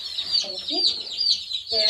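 Small chicks chirp and cluck softly in a busy, chattering run of short calls, with a child and an adult speaking nearby.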